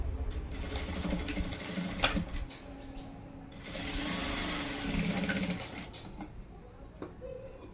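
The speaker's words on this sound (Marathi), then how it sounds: "आपण शिलाई देऊन घेऊ अगोदर" A sewing machine stitches the shoulder seam of a blouse in two sustained bursts of close, rapid mechanical whirring, with a short quieter gap between them.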